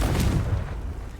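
A Confringo fire spell detonates in a video game, a loud, deep boom bursting at once and rolling off into a low rumbling tail over about a second, with no voices over it.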